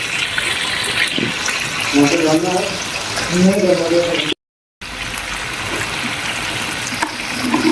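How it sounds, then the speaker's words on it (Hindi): Pieces of meat go back into a butter-rich masala and fry with steady stirring, a continuous close sizzle and scrape running throughout while a person talks over part of it. "अब हम इसमें दोबारा से बोटियाँ ऐड करेंगे"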